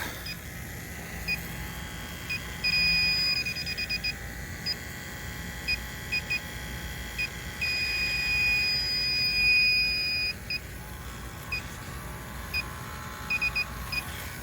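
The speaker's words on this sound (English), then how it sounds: "let's get a leak detector out, see if we can't find something" Electronic refrigerant leak detector beeping while searching a Daikin heat pump, faint rapid high-pitched beeps in repeated bursts, some runs steadier and longer, over a low background hum.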